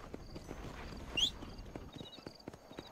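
Horse hooves clip-clopping at a steady walking rhythm in Red Dead Redemption 2, soft and fairly quiet, with a brief whooshing game sound partway through.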